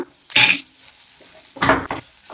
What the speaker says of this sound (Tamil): போட்டு நல்லா வதக்கிடுங்க.